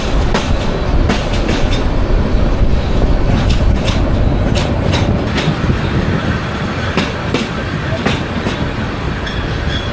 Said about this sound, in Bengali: সোনাইমুড়ি থেকে আমাদের ট্রেন ছেড়ে দিল।